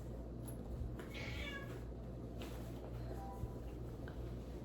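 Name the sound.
cat meowing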